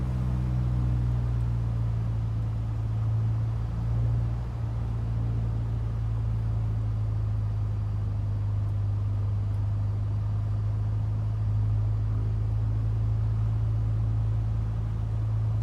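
Piston engine drone of a Just Flight Piper Warrior II light aircraft in Microsoft Flight Simulator 2024 on final approach with landing flaps, a steady, even low hum that holds constant throughout.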